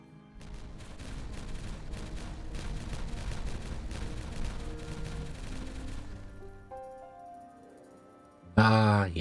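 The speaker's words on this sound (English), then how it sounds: "let us set off a strip of explosively goodness, shall we? Because everyone loves a good explosion." A strip of explosives goes off in the beaver city-building game Timberborn, a dense rapid rattle of blasts and booms that rolls on for several seconds before fading, followed by a sudden burst of loud game music.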